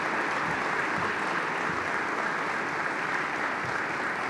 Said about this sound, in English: give those guys a round of applause for what they did last night